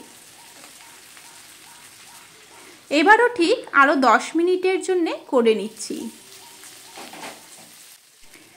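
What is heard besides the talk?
shrimp paturi frying in leaves in a pan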